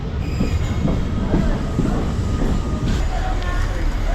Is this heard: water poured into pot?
no